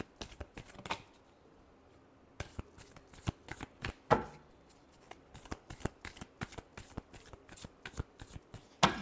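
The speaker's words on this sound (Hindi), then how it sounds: "last shuffle" A deck of playing cards being shuffled by hand during a tarot-style reading, giving repeated crisp riffling bursts and snaps spread across the clip, close and fairly quiet, with no talking.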